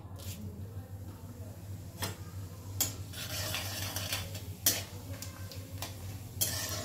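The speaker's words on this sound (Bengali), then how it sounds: "ফোড়নটা একটুখানি নেড়ে নেব।" Whole spices, cardamom, a small cinnamon stick and cloves, get stirred in a pan for tempering, with a soft sizzle under intermittent sharp clinks and scrapes of a utensil against the metal, fairly quiet and close.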